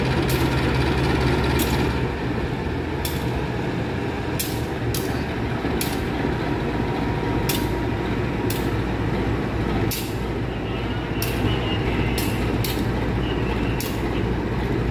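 A deep diesel locomotive engine, CC204-0302, rumbles and rattles steadily and loudly throughout, with brief hissing bursts recurring every second or two over the drone.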